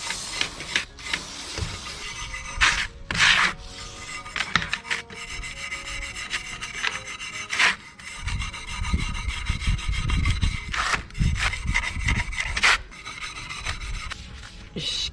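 A Honda NSR50 scooter's rear sprocket being polished clean by hand, a continuous close rasping rub in long back-and-forth strokes with brief pauses between passes.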